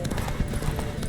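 Rapid, dense hoofbeats of a galloping horse in The Witcher 3: Wild Hunt, loud and close, with a continuous rumbling texture.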